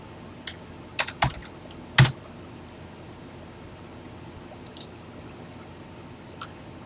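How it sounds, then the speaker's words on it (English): Keys clatter on a TI-99/4A home computer keyboard in a few scattered, close clicks, with one louder press standing out amid quiet room noise. "let's type it exactly as written"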